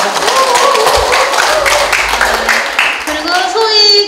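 Clapping from a gallery audience at an Insadong art festival opening, a steady patter of hands running for about four seconds with voices and other sounds mixed in.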